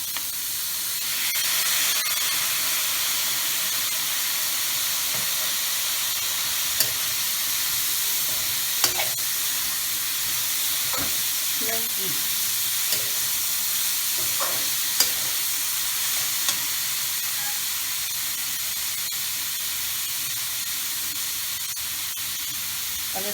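Vegetables stir-frying in a hot wok with a splash of chili vinegar, a steady hissing sizzle through the clip with a few sharp clanks and scrapes of a utensil, no voices.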